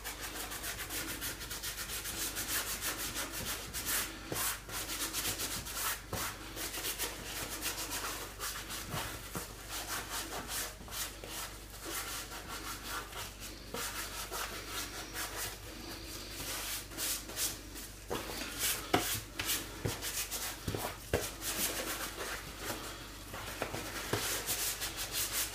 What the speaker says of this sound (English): I'm going to take my gloved hand and I'm going to rub it in everywhere